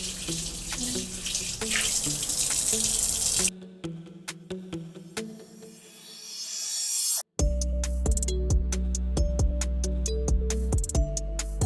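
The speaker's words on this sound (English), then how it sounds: "Make sure the water is warm, not too hot and not too cold." Warm water runs from a tap to bathe a dog, a steady, fairly loud broadband splashing that cuts off briefly midway, then resumes with a fuller, rushing flow and faint clinks, with no talking.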